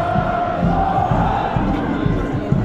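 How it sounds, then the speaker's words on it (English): A crowd of Fiji rugby fans outside a stadium after a Rugby World Cup win over Australia chants and cheers in rhythmic, loud bursts that sound close and fill the whole stretch. "Everyone is cheering for Viti."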